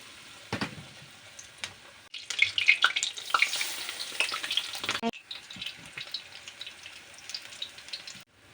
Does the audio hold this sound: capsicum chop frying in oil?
yes